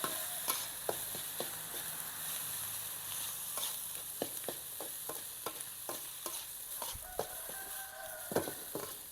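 Egg fried rice stir-fried in a wok with a ready-made sauce, a soft continuous sizzle broken by frequent sharp clacks of the spatula against the pan, close and without talk.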